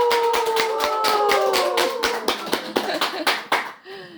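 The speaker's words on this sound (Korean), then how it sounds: "박수!" An audience at a Buddhist temple dharma talk claps in a loose, uneven burst of individual hand claps that thins out toward the end, with sustained tones sounding alongside.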